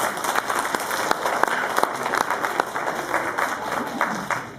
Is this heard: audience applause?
yes